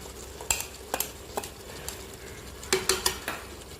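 Chilies tipped into a pot and stirred while Vietnamese salted catfish with turmeric cooks, giving a few sharp scrapes and clinks of a utensil against the pot over a faint sizzle, clustered in two bursts.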